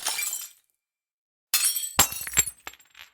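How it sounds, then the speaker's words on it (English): Glasses, bottles, cups and saucers smashed against a wall in a rage room, a loud crash followed by a second burst of shattering and several sharp clinks of falling pieces after a brief silence. "We took glasses and bottles and cups and saucers, and we smashed them against the wall."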